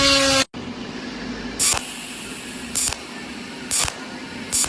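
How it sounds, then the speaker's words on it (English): A cold welding machine at work, giving four short, sharp hissing bursts about a second apart over a low, steady hum. "This is the normal operation of a cold welding machine."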